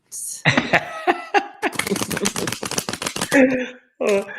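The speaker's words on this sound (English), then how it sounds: "I love to hear you shuffle" Rapid crisp riffling of tarot cards being shuffled, a dense burst of papery flicks with a voice speaking briefly before and after.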